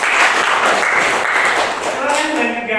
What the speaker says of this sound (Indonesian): Oke, keren sekali, tepuk tangan ya